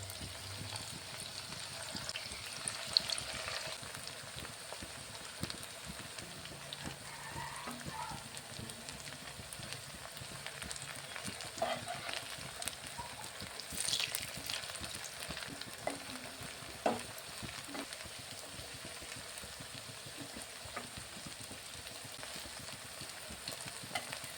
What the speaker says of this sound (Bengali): বেছে বেছে দিয়ে ভেজে নেবো